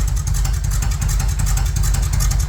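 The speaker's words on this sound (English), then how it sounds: "He just said that it's running rough because he's got the choke on right now." A Bombardier engine runs rough with the choke on, holding a steady, loud low idle with a slightly uneven throb throughout and no break in the sound.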